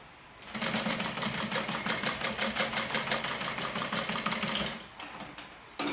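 A sewing machine stitches a seam with a rapid, steady mechanical chatter for about four seconds, starting and stopping cleanly, close up and alone.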